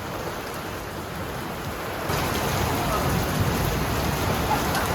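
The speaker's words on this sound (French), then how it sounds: "Comme vous pouvez l'entendre, il pleut un peu." Rain falls steadily during a thunderstorm onto an outdoor café terrace in a village, a dense, continuous patter that grows heavier partway through and stays close.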